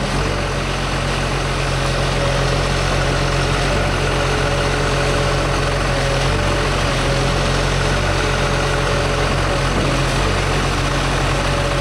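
A John Deere 648G III skidder engine idles loudly and steadily at close range while the machine is raised and lowered off the ground, with a constant low drone and faint whine and no talking.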